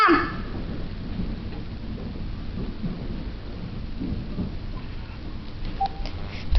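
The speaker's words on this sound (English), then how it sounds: "It's raining and it's hailing." Heavy rain with hail pours down outside a home during a storm, a dense steady hiss with rumbling low thunder underneath, continuous and moderately loud throughout.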